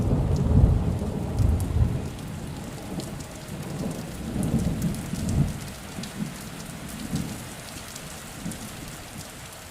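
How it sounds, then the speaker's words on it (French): A thunderstorm with heavy rain pattering on surfaces, punctuated by repeated low rolls of thunder that swell and fade, loud and continuous with no talk. "le temps que l'orage se calme."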